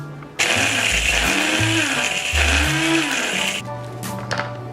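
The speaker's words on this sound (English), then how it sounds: "I'm gonna put some oats in my mixture, and I'm gonna blend it only just a little bit, not too much" Blender whirring through rolled oats in a bean burger mixture, a loud motor drone that rises and dips in pitch in short pulses before running more steadily.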